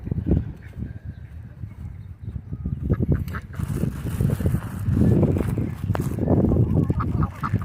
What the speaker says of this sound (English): Look at this dadgum duck.